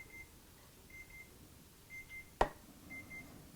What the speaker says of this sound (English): That's my timer for stirring the couscous